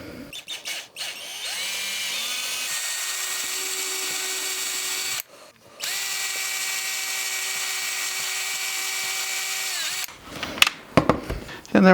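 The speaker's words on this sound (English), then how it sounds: "I'm going to drill down and then drill into my pickup cavity" Power drill boring through a guitar body to reach the pickup cavity, a loud steady whine held for several seconds, briefly stopping and restarting, then ending with clatter and handling noise.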